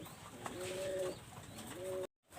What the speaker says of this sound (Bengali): আমি এক পেয়ার কবুতর দেখাচ্ছি দেখেন এটা হলো একটা গোল্ডেন কবুতর